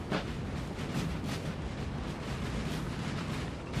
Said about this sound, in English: These artillery are very, very nice. Already bombarding the cavalry here.